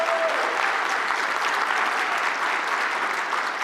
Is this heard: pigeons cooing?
no